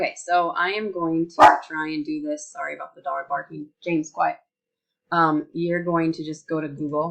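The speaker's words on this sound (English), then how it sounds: "Sorry about the dog barking." A pet dog named James gives a single sharp bark indoors, heard briefly over a person who keeps talking steadily before and after it.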